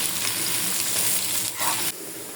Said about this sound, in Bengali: আমার পেঁয়াজ রসুনটা ভাজা হয়ে গেছে